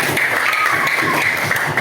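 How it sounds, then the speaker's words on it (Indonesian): A classroom group claps together for a short burst, the applause broad and steady, with a faint voice mixed in. "tepuk tangan untuk kita semua."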